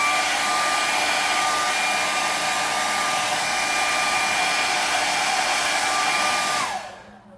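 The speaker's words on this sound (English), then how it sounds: "I'm gonna use the blow dryer just to, you know, dry it up a little bit" A handheld blow dryer running continuously to dry fresh paint on a koi pond painting, a loud steady whooshing whine with a constant pitched hum that holds for about seven seconds and then cuts off abruptly.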